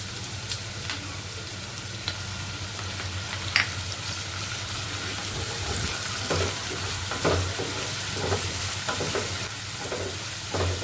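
Chicken lollipops fry in a pan with soy sauce, a loud, continuous sizzle broken by occasional scraping stirs and clinks of a utensil against the pan.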